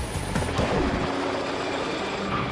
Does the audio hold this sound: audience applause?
no